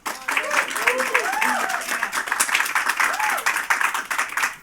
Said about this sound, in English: since the applause ended with you